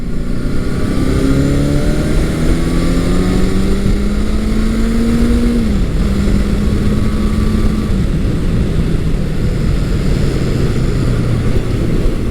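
A vintage motorcycle, a Kawasaki KZ1000 or Honda CB750, runs loud and steady under acceleration, its engine note climbing in pitch through the gears with a brief dip at a shift, heard close and continuous without talking.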